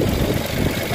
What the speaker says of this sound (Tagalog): pakinggan natin guys kung ano yung andar ng makina